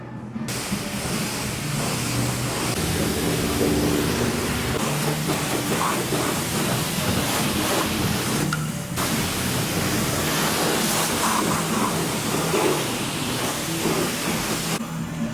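Pressurized water spraying over a turbocharged Honda S2000 during a wash, a steady loud hiss that runs continuously with brief shifts in intensity, no voices.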